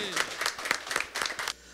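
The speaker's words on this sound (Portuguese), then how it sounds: "uma salva de palmas, Marinho!" An audience at a Brazilian sertanejo music show applauding, a short burst of fairly close clapping under a presenter's voice.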